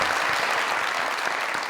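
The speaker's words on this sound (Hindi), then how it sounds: "तालियां मुंडे दी।" Studio audience on a comedy talk show applauding loudly and steadily, a dense wash of many hands clapping close up with no pauses and no voices on top.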